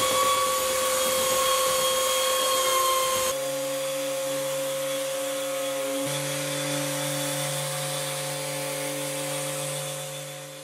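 Continuous high whining power sander on an oak board, with steady tonal hum and hiss, shifting pitch slightly partway through, loud and close.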